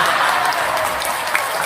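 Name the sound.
audience clapping at religious sermon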